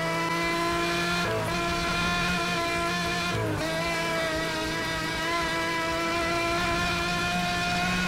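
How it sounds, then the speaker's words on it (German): Supercar engine droning in Need for Speed Hot Pursuit Remastered, a steady, loud, tonal engine hum with two brief dips as gears shift, continuous throughout. "Das ist ein Supersportwagen."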